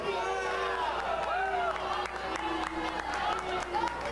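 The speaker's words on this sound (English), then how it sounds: "the crowd here at the Edgewater certainly responding to him" A crowd at the Edgewater cheers and calls out for a wrestler during a pro wrestling match, a steady roar of voices with whoops rising above, commentators talking over it.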